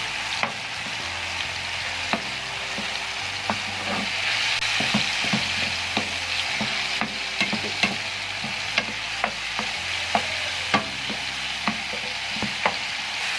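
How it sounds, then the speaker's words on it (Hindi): Marinated chicken frying in oil in a pan, a soft continuous sizzle broken by frequent sharp spatula scrapes and knocks against the pan at an uneven rhythm. "मैरिनेटेड चिकन को फ्राई पैन में डालेंगे और जब थोड़ा सा ऑयल गर्म हो जाएगा तो इसको अच्छी तरीके से फ्राई करेंगे।"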